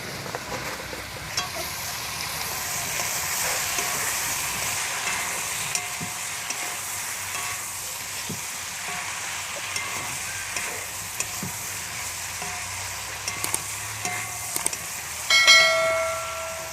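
Vegetables for shukto stir-fry with turmeric in a pan, giving a steady close sizzle with intermittent scraping stir strokes throughout, and a brief ringing metallic clink near the end; no talk.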